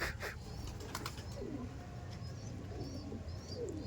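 Andhra pigeons of the Kalshira type coo softly in a loft, low murmuring calls repeating under steady background noise, with a few faint chirps and wing rustles nearby.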